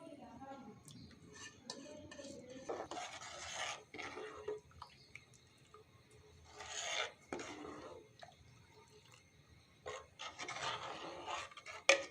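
A spoon stirs and scrapes rice in a pot of date palm juice for payesh, giving intermittent scraping and clinking bursts against the pot, fairly faint, with pauses between strokes.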